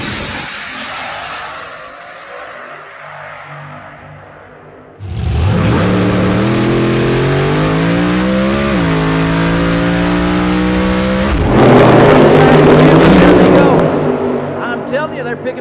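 A funny car launches down the drag strip at Penwell Knights Raceway, its engine roaring loud and close and rising through the run over an announcer's commentary, followed by a harsh burst of exhaust noise.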